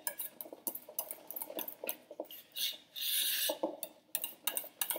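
Whipped cream being folded into pastry cream in a bowl, soft scraping and rasping strokes of a spatula against the bowl in a quick irregular rhythm, with brief wetter swishes, quiet and close.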